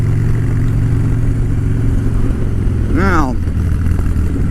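Motorcycle riding on brand-new Metzeler ME888 tires, a loud, steady low engine drone close by throughout, with a rider talking briefly over it and a short rising-and-falling whine partway through.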